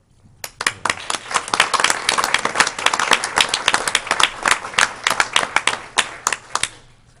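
Applause from the audience at a Morganton City Council meeting: many hands clap steadily and fairly close for several seconds, with sharp individual claps standing out before the clapping thins and stops.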